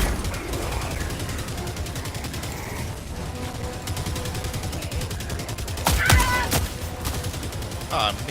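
Rapid automatic gunfire in Helldivers 2, a dense rattling stream of shots running throughout, with louder sharp bursts near the end, under brief game effects and a voice.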